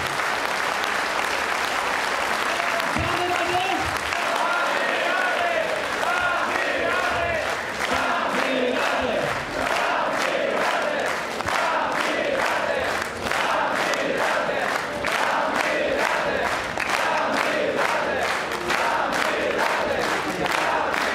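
A large crowd at a political rally in Płock, Poland, applauds steadily and cheers for about twenty seconds, loud and dense throughout, with shouts rising above the clapping.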